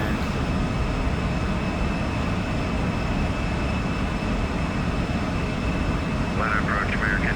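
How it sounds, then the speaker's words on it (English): Simulated Embraer E175 jet engines at climb thrust in X-Plane 12 give off a steady, even roar with a faint high whine, holding constant at moderate level throughout. "So now it's just throttle coming"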